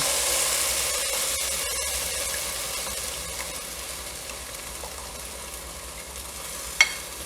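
Ground tomato-cashew masala paste with coriander leaves and fennel seed sautés in a pan for chicken curry, giving a steady, even sizzling hiss throughout, broken by one sharp click near the end.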